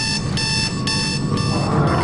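An alarm clock rings in the video game Dead Space 2, a loud, shrill electronic beeping in rapid repeated bursts that carries on without pause.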